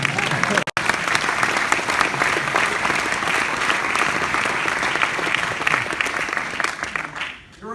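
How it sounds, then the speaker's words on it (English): Loud, steady applause from a large audience at a speech fills the whole stretch without a break, thinning slightly just before the end. "Got to clap for that."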